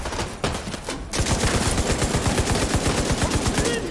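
Automatic gunfire in The Division 2, a fast, evenly spaced string of loud close shots that starts after a short quieter stretch and carries on steadily to the end.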